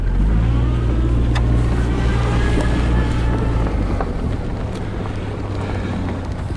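A 1991 Honda Accord engine idles steadily right after its first start, a loud continuous low rumble with wind buffeting the microphone throughout and no talking.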